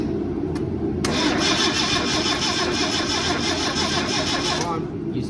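A Datsun 1600 engine under restoration cranks briefly, then catches and runs with a loud, steady rough rumble for several seconds before cutting off, close by, with people talking over it.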